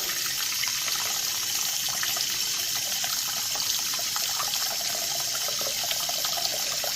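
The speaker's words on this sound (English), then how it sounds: "Let's fill this up with some hot water." Hot water gushing from a tap into a soapy sink, a steady loud hiss of running, splashing water filling the basin throughout, with no voices.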